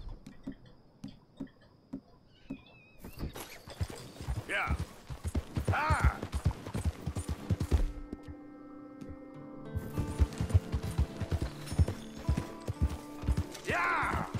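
Horse hooves clip-clop in a steady galloping rhythm in Red Dead Redemption II, close and fairly loud, with a whinny, mechanical game sounds and someone talking over it.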